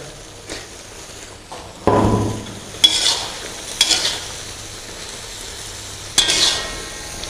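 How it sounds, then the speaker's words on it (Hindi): Green chillies and tomato masala fry over a medium flame, stirred now and then, with a steady low sizzle and a few louder scraping bursts near the start and end. "इसे अब 4 से 5 मिनट हमने ऐसे ही मीडियम फ्लेम पे भून लेना है।"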